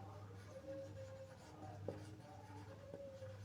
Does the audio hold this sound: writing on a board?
yes